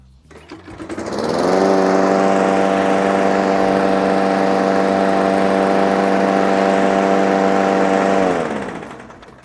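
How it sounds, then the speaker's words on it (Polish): A lawn mower engine, just repaired after its bent shaft was straightened, starts up, runs steadily at a loud, even idle for several seconds, then cuts off and winds down. "Kosiarka odpala, nie czuć jakichś nadmiernych drgań"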